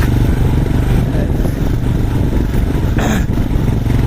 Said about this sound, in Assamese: হিমালয়ান বাইক বাবেহে ধুনীয়াকৈ টানি আছে।